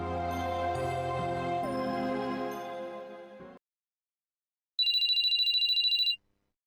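A phone rings in the Sweet Fuse visual novel video game, a steady electronic trill of about a second and a half that follows a stretch of background music, then cuts off.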